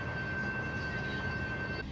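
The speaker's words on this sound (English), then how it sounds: "Looks like a train." A train passes as a continuous, moderately distant rumble with a faint steady whine above it, holding level through the short stretch with no speech.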